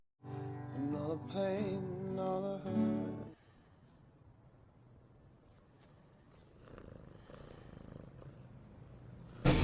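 An orange cat purrs close by with a soft, steady low rumble that runs for several seconds. A brief louder tonal sound comes before it.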